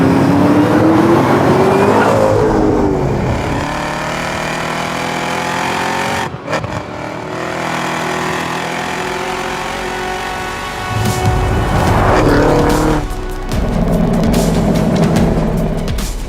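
A Cadillac CT5-V Blackwing, BMW M5 CS, Audi RS7 or Tesla Model S Plaid performance car roars loud and close, engine rising, briefly dropping off around the middle, then surging again with a rough burst of acceleration.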